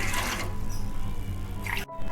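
Water splashes and gurgles as six glasses of it are poured into a cooking pot in short bursts, close up, with a quieter pause between pours.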